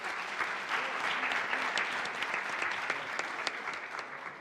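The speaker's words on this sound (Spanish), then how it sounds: "Bienvenida y un aplauso para Isabel." Audience at a panel session on social media and cyberactivism breaks into sustained applause, a dense steady clapping from a roomful of people heard on its own.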